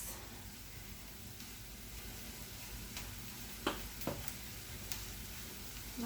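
Ground meat for a taco salad browning in a pan gives off a steady, soft sizzle with a few faint clicks of stirring scattered through it, and no one speaks.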